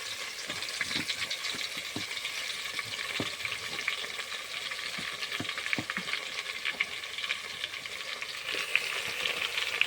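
Garlic dropped into hot cottonseed oil for a fresh field-bean curry gives a steady, close sizzling hiss, with scattered clicks and scrapes from stirring across the whole stretch.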